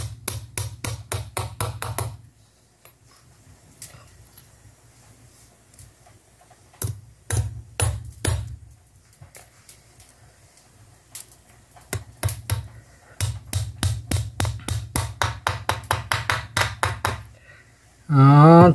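Small nail hammered through a double metal layer while making a homemade grater, giving bursts of rapid, sharp metallic taps in several runs separated by pauses, fairly close and loud.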